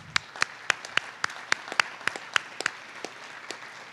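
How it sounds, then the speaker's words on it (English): At a San Antonio school district's State of the District event, a small audience gives a light round of applause. About a dozen distinct claps come at a fairly even pace and sound sparse rather than like a full ovation. "Have a round of applause."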